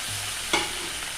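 Okra fries in a hot pan with a steady, dense sizzle. A short burst of sizzling flares up midway as two tablespoons of thick curd are added, then the sizzle settles back to an even hiss.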